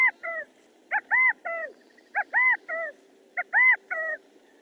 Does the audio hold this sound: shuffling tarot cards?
no